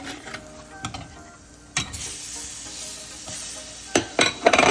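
Tomato pieces fry in a pan for a Kerala-style fish curry ground with coconut, with a steady soft sizzle punctuated by several sharp stirring scrapes and clicks, close and without talk.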